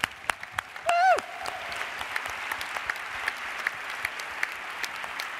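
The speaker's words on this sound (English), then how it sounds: "Give them a big round of applause" An audience at a large youth summit's human rights plenary session applauds steadily, with dense clapping and a single loud whoop near the start.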